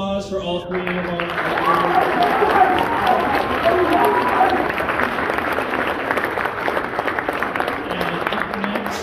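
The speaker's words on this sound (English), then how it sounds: "One more round of applause for all three of them." An audience applauds at a 2022 spring concert of a junior/senior high school band, a dense, sustained wash of clapping that swells after the first second and holds steady to the end, with some voices mixed in.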